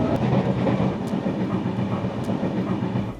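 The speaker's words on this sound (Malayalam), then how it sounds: "ട്രെയിൻ എടുത്തല്ലേ" A train rumbles steadily nearby with a continuous rolling, rattling noise, wheels on rails, no voices.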